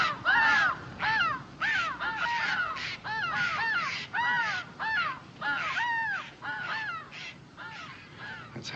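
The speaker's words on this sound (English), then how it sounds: "The jays and the crows squawk at us when we pass." Crows caw repeatedly in a loud, harsh series of rhythmic squawks outdoors in the woods, calls overlapping in quick bursts roughly every second, close and clear with a faint rustling background.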